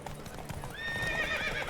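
Hooves clip-clop rapidly as a horse races in The Witcher 3, and a sharp whinny rises over the galloping partway through. The hooves are fairly close and moderately loud.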